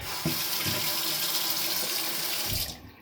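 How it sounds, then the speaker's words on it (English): Tap water pours steadily from a freshly plumbed faucet in a DIY darkroom, a loud continuous rush that runs unbroken for a few seconds before cutting off near the end. "water is flowing nicely with good pressure"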